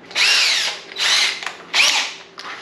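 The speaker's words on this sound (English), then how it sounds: "Now we just need a drill." A power drill whirs loudly in three bursts with brief pauses between them, with a shorter fourth burst at the end, during a car stereo installation.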